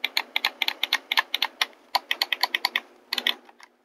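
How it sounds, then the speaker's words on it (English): Sharp plastic clicks from an Xbox One controller's bumpers pressed over and over in quick, uneven bursts, close and crisp with no talk. "you got that concise click letting you know that you are indeed getting the contact"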